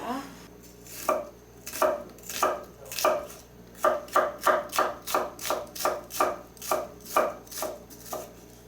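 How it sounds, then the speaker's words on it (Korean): A knife chops onion and radish into thin julienne strips on a cutting board, a steady run of crisp, close knocks about twice a second, speeding up toward the end, with no talking. "양파 무는 채 썰기 하겠습니다"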